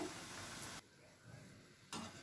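Batter-coated capsicum bajji fry in hot oil with a dense, steady sizzle that drops briefly quieter partway through and then surges back loud.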